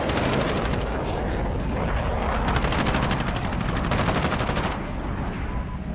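Dense, continuous gunfire from Call of Duty: Modern Warfare fills the whole stretch, loud and close, rapid shots blending into a steady roar.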